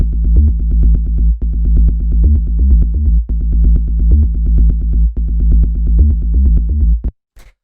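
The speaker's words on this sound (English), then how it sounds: "The first thing here is this bass, which sounds like this." A punchy, repetitive tech house bass line pulses in a steady dance rhythm, loud and alone, with brief gaps between phrases before cutting off.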